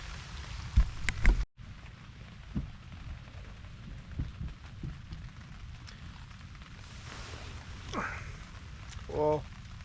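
Steady rain drumming on a tent during a heavy storm at a campsite, a dense close patter with a few sharper knocks and brief gusty swells.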